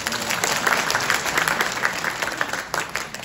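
A conference audience claps steadily and fairly loudly throughout, dense hand claps forming a continuous wash at an economic outlook talk at COEX in Seoul.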